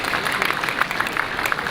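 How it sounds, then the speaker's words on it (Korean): Audience applause at a campaign rally for party leadership candidates in Gwangju, a short burst of steady, moderately loud clapping with no voices over it. "뜨거운 박수 좀 부탁드리겠습니다."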